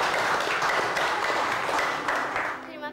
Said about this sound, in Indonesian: Tepuk tangan dong untuk Cindy.